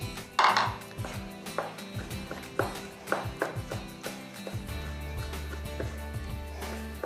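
A knife cuts through smoked tomatoes soaked in a little sherry on a cutting board, giving a run of close, irregular chopping taps and knocks with some dish clatter in a quiet kitchen.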